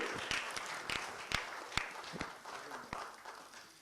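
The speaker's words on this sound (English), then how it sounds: "please give him a big round of applause" Scattered audience applause welcoming a guest at a yoga award ceremony in London, a faint, thin patter of separate claps with a few sharper ones standing out, soft room murmur beneath.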